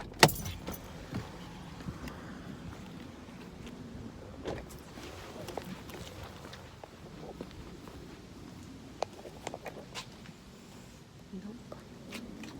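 A car engine idles with a low, steady rumble, while keys jangle and scattered clicks and knocks sound close by.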